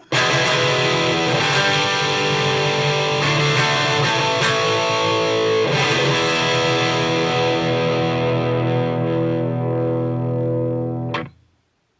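Electric guitar on its bridge pickup through a Marshall Origin 20 amp with cab, playing a sustained distorted chord-driven passage with a few re-attacks, loud and close, ringing out before cutting off near the end.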